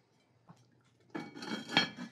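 A lid clatters onto a pot of simmering pasta sauce in a home kitchen, a short, close run of metallic clinks and knocks after a faint tap, with no talking.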